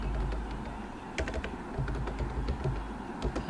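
Ctrl and arrow keys pressed repeatedly on a computer keyboard, a steady run of light, close key clicks over a constant background hum.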